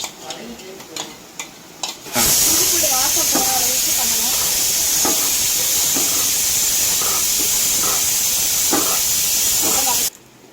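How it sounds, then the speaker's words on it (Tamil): Ginger garlic paste, three teaspoons, hits hot oil in a pan for mutton biryani and bursts into a loud, steady sizzle lasting about eight seconds, with stirring scrapes underneath and a few soft knocks before it starts. "இஞ்சி பூண்டு பேஸ்ட்டு மூணு டீஸ்பூன் போடுறேன்"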